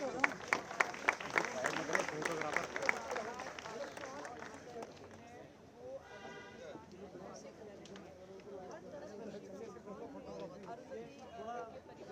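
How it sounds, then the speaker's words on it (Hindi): An audience at a welcome ceremony for a boxer claps in a burst of rhythmic applause that fades into crowd chatter, while a person speaks over it through a sound system. "तालियों के साथ आपका अभिनंदन और स्वागत।"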